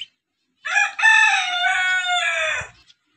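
A farmyard rooster lets out one loud, close crow lasting about two seconds, preceded by a short squawk, with faint low scuffling afterward and no talking.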